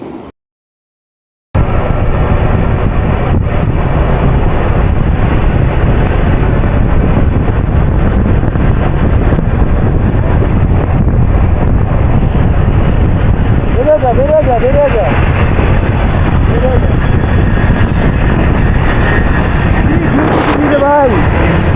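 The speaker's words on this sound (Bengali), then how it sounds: "রাস্তা জুড়ে একটাই শব্দ, বাইকের আওয়াজ" A motorcycle cruises along a road on a long trip through Bangladesh, its steady engine drone mixed with continuous wind buffeting the microphone, loud and unbroken after a brief silent start.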